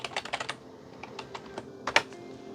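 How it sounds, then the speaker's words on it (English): Bursts of typing on a computer keyboard, a quick cluster of key clicks, a pause with scattered taps, then a sharper louder burst near the end, close and alone with no talk. "Oh my God, I cannot type today."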